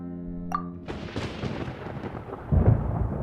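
A thunderstorm in the video game Genshin Impact, where a brief tonal chime gives way to a loud, rolling rumble of thunder that swells again near the end, with no speech.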